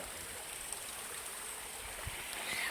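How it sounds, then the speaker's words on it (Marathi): Water flowing down from a river above a nature farmhouse, a steady broadband rush and trickle heard up close and fairly quiet, with no voices over it. "हे बघा इथे पाणी वाहत आहे"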